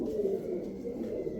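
A red Chinese female pigeon gives a soft, continuous low coo, close by and alone, with no voices.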